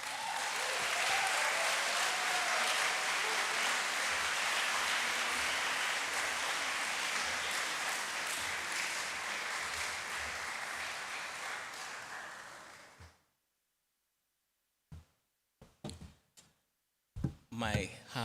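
Sustained applause from a conference audience welcomes a keynote speaker for about thirteen seconds, dense and continuous before it stops abruptly, followed by a few scattered knocks and thumps.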